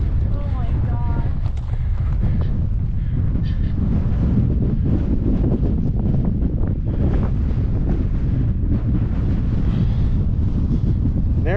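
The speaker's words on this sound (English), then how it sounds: "There's the wind." Strong wind buffeting the microphone on a high mountain trail near Chasm Lake in Rocky Mountain National Park, Colorado, a constant loud roar throughout with faint voices beneath.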